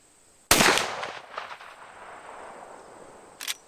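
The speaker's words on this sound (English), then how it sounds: "6 shots of Freedom Munition XTP 240 grain" Revolver or handgun firing Freedom Munition XTP 240 grain rounds outdoors, one sharp loud report with a trailing echo, then a second shorter shot about three seconds later.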